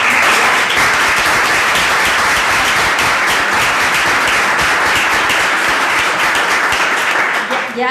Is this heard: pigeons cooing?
no